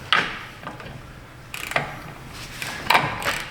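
Ratchet wrench cranking a bolt down on a trashed Trax, a series of mechanical clicking bursts close by, in uneven spurts with pauses between.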